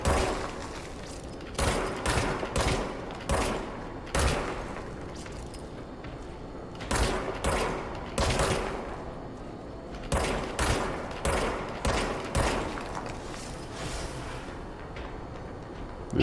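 Repeated gunfire from the third-person shooter Control: Ultimate Edition on PS5, loud bursts and single shots coming in uneven clusters across the whole stretch with short pauses between volleys, no voices over it.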